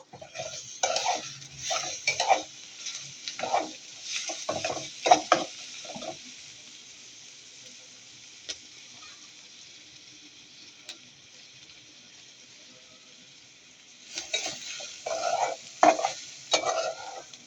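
Cumin paste and turmeric powder being stirred in a frying pan for a fish bhuna, with a spoon scraping and sizzling in repeated bursts, a quiet pause in the middle, then more stirring near the close.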